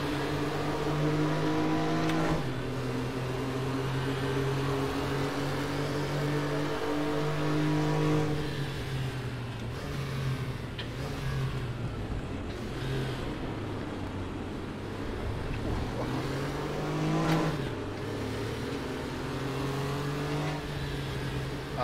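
A Group C race car engine in the RaceRoom racing game revs hard and steadily through gear changes, a loud continuous drone rising and dropping in pitch across a lap, with no voices over it.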